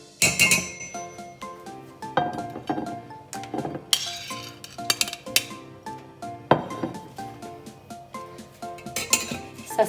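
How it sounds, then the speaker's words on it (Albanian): A metal spoon presses mushroom rice pilaf onto a plate, giving a string of bright, close clinks and taps against the dish, with no talking. "hedhim pilafin, gjeshëm pak me lugë"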